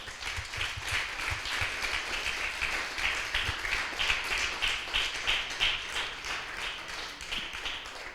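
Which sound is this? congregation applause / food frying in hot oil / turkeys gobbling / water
congregation applause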